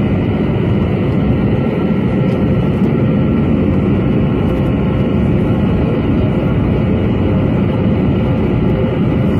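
Steady loud cabin roar inside a Delta CRJ200 regional jet going around near Detroit Airport, a dense continuous engine and airflow rumble with no break and no talk.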